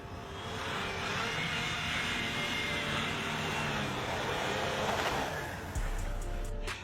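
A Land Rover Discovery accelerates hard uphill in snow with the gas pedal floored, its engine a loud, sustained roar mixed with rushing wind and tire noise, fading slightly near the end.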